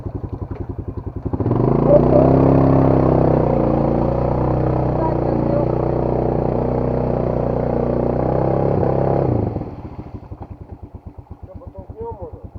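An enduro motorcycle engine catches and runs at a steady, loud idle with slight revving for about eight seconds, then stops, leaving the ticking of a cranking or cooling engine.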